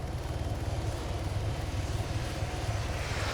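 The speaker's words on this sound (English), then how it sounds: "Jet flying over." A jet flies over in the military game Arma 3, a steady low engine roar with a pulsing rumble that holds at even loudness throughout, with no voices.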